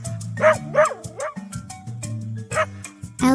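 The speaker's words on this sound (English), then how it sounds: "Dogs love to play and wag their tails." A dog barks in a children's animal-sounds lesson, several bright yips and barks over a steady musical backing, spaced across the moment and fairly loud.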